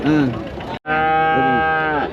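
Cattle at the Anthiyur cattle market in Tamil Nadu let out two loud, close moos, one short and one long and drawn out, with a brief gap between them.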